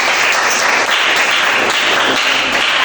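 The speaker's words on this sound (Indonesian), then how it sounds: "Bagus, tepuk tangan untuk Raket." A classroom of students claps for a classmate named Raket, a short, dense, even burst of applause heard close with no talking.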